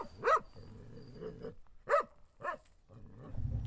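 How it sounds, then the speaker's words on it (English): A dog barks in a radio drama: several sharp, close barks, two loud ones and a softer pair, separated by brief pauses, with a low rumbling voice or growl at the end. "Just wait till I set the dog free."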